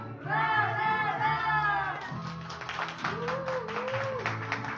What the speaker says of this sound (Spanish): El aplauso, hermosa